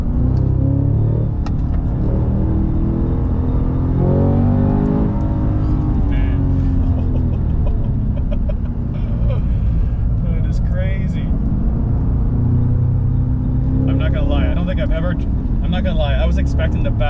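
A loud Cadillac CT5-V or CT4-V Blackwing engine revs hard and roars under acceleration, easing off under braking and surging again, with someone talking over the engine noise.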